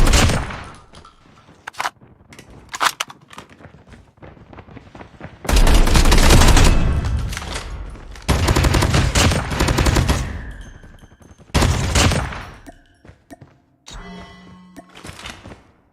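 Bursts of automatic gunfire from a video game, loud and close, coming in several dense volleys separated by quieter gaps with scattered single shots and in-game effects.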